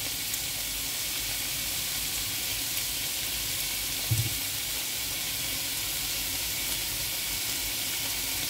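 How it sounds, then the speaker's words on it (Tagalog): Beef mince fries in a pan with salt as the base for beef tacos, giving a steady, close, continuous sizzle and hiss with one soft thump partway through and no talking. "Then fry natin siya ng 5 minutes to 7 minutes. 5 to 7 minutes guys, until mag brown ang ating mince, beef mince."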